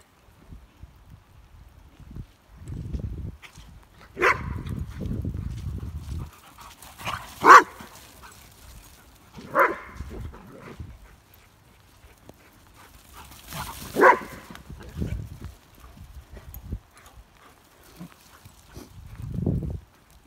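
A German Shorthaired Pointer and Dalmatians play together, giving out several sharp barks spaced every few seconds, along with growly grumbles, scuffling and panting between them, fairly close and with no talk.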